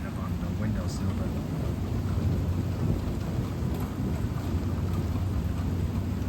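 Steady rain and thunderstorm heard through a window from indoors, with continuous heavy rain noise and low rumbling thunder rolling throughout at a fairly loud level.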